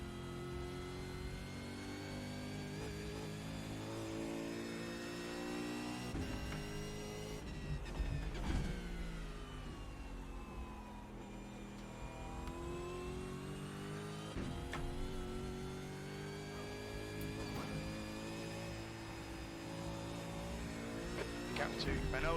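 Race car engine in the iRacing sim at Bathurst, droning steadily with rising and falling pitch through gear changes and throttle blips, someone talking over it throughout.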